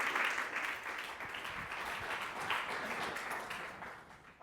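An audience at a science talk on Cajal and the history of neuroscience applauds steadily, a soft distant wash of clapping that slowly fades over several seconds.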